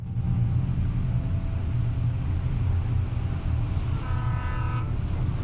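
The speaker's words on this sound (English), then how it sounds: "now we are driving to Bright Falls on a ferry" Low, steady engine rumble from a ferry heading to Bright Falls in Alan Wake, continuous and loud throughout, with a short horn-like toot near the end.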